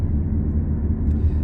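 Steady low rumble inside a moving Volkswagen Tiguan 2.0 TDI BlueMotion diesel SUV with DSG gearbox, an even road and engine drone with no voices.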